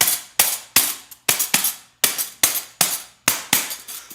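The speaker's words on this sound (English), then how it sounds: "tap the top to make a similar sound to a tambourine" Forks tapped on folded paper with tines pointing down, giving a tambourine-like jangle: about eleven sharp, bright metallic strikes in a loose steady rhythm, each ringing briefly before the next.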